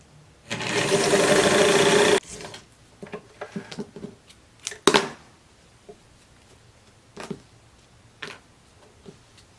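A sewing machine stitches along the edge of a fabric blouse in one loud, steady run of about a second and a half, then falls quiet apart from a few short clicks and handling taps.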